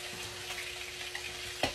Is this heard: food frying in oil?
yes